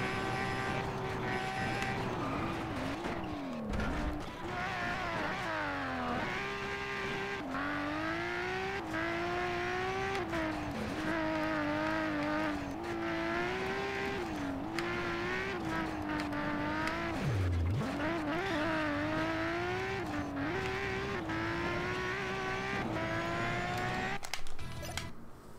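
A rally car in DiRT 2 on PSP races hard, its engine revving up and down through gear changes with whining pitch sweeps, brief tire scrabble and a couple of sharp drops as it brakes and slides, continuous and close with no talking.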